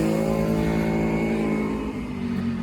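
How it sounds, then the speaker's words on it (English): A Ferrari on a Monaco street gives a loud, close, continuous engine roar with a rich, even tone that holds steady and then eases slightly, with no voices. "Ferrari."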